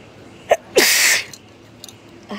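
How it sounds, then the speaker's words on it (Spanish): A single loud, close sneeze bursts out after a short intake of breath, with a few small mouth sounds around it. "ya me está por agarrar estornudo, espérenme."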